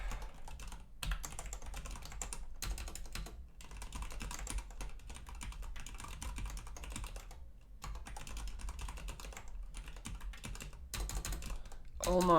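Continuous typing on a computer keyboard during a compiler-programming session, with rapid clattering keystrokes in bursts separated by short pauses, close and steady throughout.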